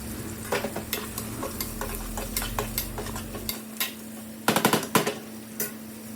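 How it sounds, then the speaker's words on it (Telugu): Chopped onions, green chillies and coriander fry in a pan, a steady sizzle broken by repeated scraping and clinking stirring strokes, with a quick burst of knocks near the end. "కట్ చేసుకున్న ఆనియన్స్, పచ్చిమిర్చి అండ్ కొత్తిమీర యాడ్ చేసుకొని ఫ్రై అంతవరకు ఉంచాలి"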